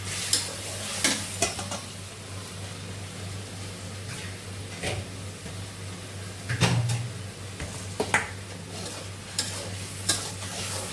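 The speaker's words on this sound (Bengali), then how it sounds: "মশলাটার সঙ্গে আমি মাছটা কষিয়ে নেব মাছ আলাদা করে ভাজবো না" Fish and spice paste sauté in a pan at a low, steady sizzle, broken by intermittent scraping strokes and a few sharper knocks of the spatula.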